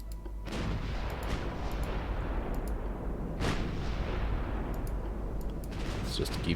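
Naval guns firing in Ultimate Admiral Dreadnoughts, a few heavy booming shots spaced apart over a steady rumbling background, distant and fairly faint, with no talking.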